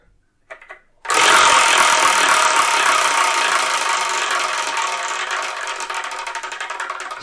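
A number wheel is spun for a manga review, and after a couple of faint taps it gives a loud, steady whirring rattle for several seconds, slowing into separate ticking clicks as it winds down.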